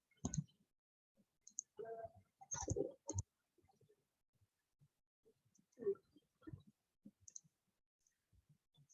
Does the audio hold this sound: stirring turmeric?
no